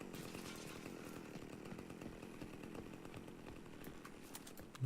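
A chainsaw in a VR video game drones steadily at low volume, its engine buzzing continuously without pause, somewhat distant and muffled.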